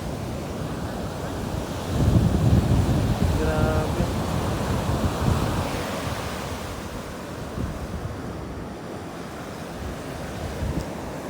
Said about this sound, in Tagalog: Napakalaking mga alon. Ang lakas ng hangin.